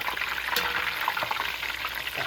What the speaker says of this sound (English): I'm going to go ahead and flip it to this side and allow this side of the corn tortilla to cook up